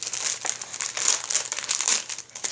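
A crinkly plastic package of underwear is torn open, producing steady, close crackling and crumpling that comes in bursts for a couple of seconds, with no talking.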